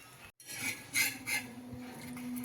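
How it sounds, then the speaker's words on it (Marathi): A spatula scrapes and clinks against a pan while something sautés in ghee, giving a few distinct metallic scrapes over a soft background hiss, close and moderately quiet. "थोडंसं तुपावर असं आपण ते झाक छान परतून घेणार आहोत लाल असं गुलाबी कलरवर"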